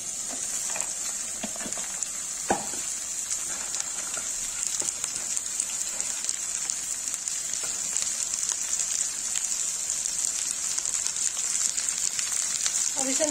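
Okra frying in a pan with onions gives a soft, continuous sizzle that stays even and fairly quiet, with a few small pops and crackles scattered through it.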